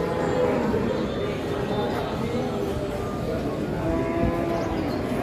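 Large Pegon cattle mooing at a busy livestock market ahead of Lebaran, with low lowing calls rising over a steady crowd din and voices of people talking nearby throughout.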